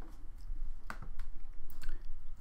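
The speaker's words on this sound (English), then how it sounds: "you can use your keyboard, the WSAD key, and move the character" Computer keys, the W, S, A and D movement keys, are pressed while testing character movement in a Unity 3D shooter game, giving a few soft clicks over a steady background hum.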